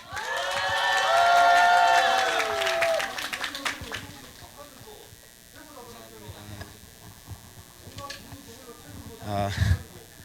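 A crowd at a labor rally in Korea applauds and cheers as the next speaker is welcomed. The clapping swells under a loud voice at the start, then thins to scattered claps and murmuring.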